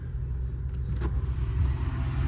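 Lamborghini Urus driving through city streets, a steady low road and engine rumble from inside the car, with a couple of faint brief clicks over it.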